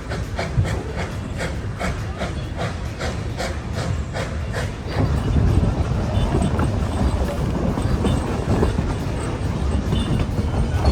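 The Puffing Billy steam train on the Puffing Billy Railway rolls past with rhythmic clicking of its wheels and rumbling carriages under wind noise, nearby, while people talk.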